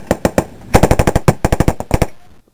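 Bursts of machine-gun fire returned during a firefight in Afghanistan, loud close rapid shots in several quick strings with brief pauses between them.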